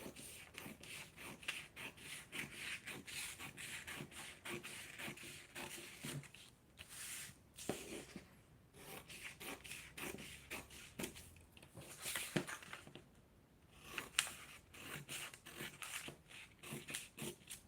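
Scissors cutting a paper sewing pattern into pieces for a laptop bag: continuous close rustling and crisp snipping with rubbing paper handling, several brief louder crunches, no speech.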